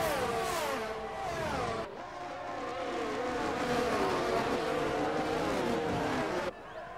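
Formula 1 cars racing in F1 22 at the Azerbaijan circuit, with loud high-revving engines whining and shifting pitch continuously, abrupt gear changes cutting in, and faint commentary underneath.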